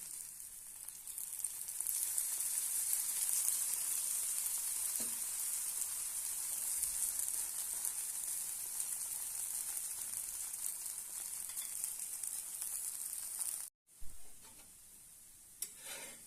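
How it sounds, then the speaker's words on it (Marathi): Bajra and methi thalipeeth roasting on a hot pan gives a steady, close sizzle that holds evenly for most of the stretch, broken by one short silent gap before the crackle returns. "दुसर बाजू बाजूने पलटून घेऊया मस्त अपना खरपूस भाजून घेऊया"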